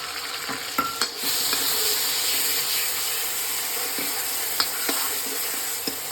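Onion, green chili and garlic frying in a pan for spicy jeera aloo, a steady close sizzle with a few light stirring clicks and scrapes, no talking.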